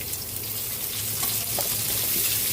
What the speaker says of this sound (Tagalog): Luto na yung bawang. Lagyan na natin yung sibuyas, onion.